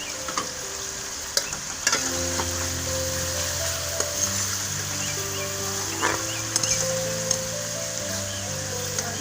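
Garlic ginger paste frying in a pan for black chana curry, a steady loud sizzle with occasional clinks and scrapes of stirring, no talking.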